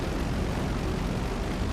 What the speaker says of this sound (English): What is with these suicidal air helicopters?